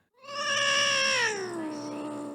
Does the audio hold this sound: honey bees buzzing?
no